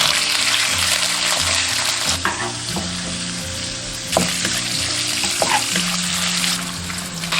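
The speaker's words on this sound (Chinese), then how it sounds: "倒入腊肉煸出油水" Fatty cured pork, larded meat, fries in a little oil with a loud, steady sizzle, close up, as occasional stirring scrapes and knocks against the wok rise above the hiss throughout.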